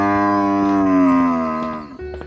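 A bull lets out one loud, drawn-out moo from close by. The low call holds steady, then sags and breaks off into quieter rumbling at the end.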